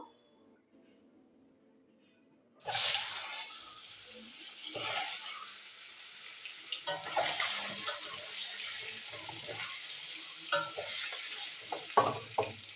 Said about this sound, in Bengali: তো এখন এই ডিমগুলো আমি ভেজে নেবো।